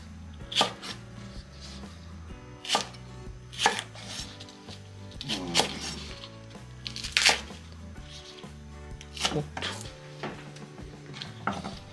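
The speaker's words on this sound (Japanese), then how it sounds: "斜めに切るやり方ですね" A kitchen knife slicing scallion-type vegetables on the bias for a crab hot pot, giving a series of sharp, close chopping knocks on a cutting board in an uneven rhythm, with no talk over them.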